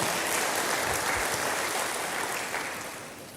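A church congregation claps together in a steady, dense burst of applause that fills the room, then slowly thins and fades toward the end.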